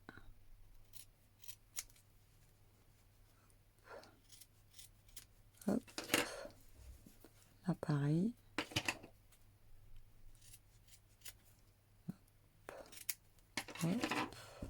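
Scissors cutting fabric diagonally for a flat baby comforter, a few sharp scattered snips and rustles over a low hum, with a voice speaking briefly in between.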